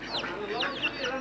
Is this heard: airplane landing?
no